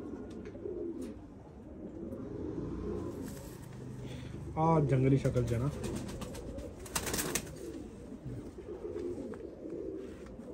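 Pigeons of the Saleti Kamanghar breed coo in a loft in Punjab, a soft rolling call rising clearly around the middle, with someone talking over steady background noise.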